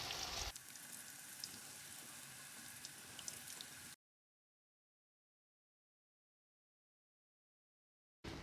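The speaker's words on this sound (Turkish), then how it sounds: "Sosa boladıktan sonra yağın içine atıyoruz" Steady, crackling sizzle of battered cauliflower hitting hot oil, close and continuous for a few seconds before cutting to silence.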